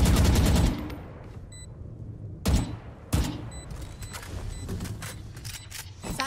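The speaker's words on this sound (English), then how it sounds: "You shoot Omen!" Gunfire in the video game Valorant: a loud rapid burst of shots opens, followed by a few sharp single shots and softer scattered pops against quiet game ambience.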